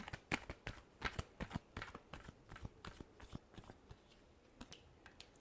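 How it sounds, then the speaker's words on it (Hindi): Tarot cards being shuffled, a quiet close run of quick crisp riffling snaps in irregular bursts, fading to softer taps toward the end. "last shuffle"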